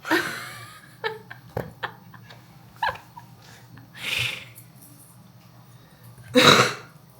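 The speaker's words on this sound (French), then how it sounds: "Pourquoi tu tousses dans le pot?" A few short, sharp coughs and throat-clearing bursts into a cooking pot, close and hollow-sounding, scattered among small clatters, ending with one louder cough.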